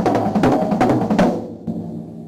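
A drum kit plays quick groups of hand strokes moving around the drums with doubled bass drum kicks, a fast run of close, punchy hits ending in a final ringing stroke.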